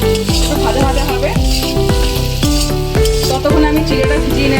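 Potatoes and carrots fry with turmeric and salt in a pan, giving a loud continuous sizzle close by, while a utensil stirs and scrapes in a steady repeating rhythm.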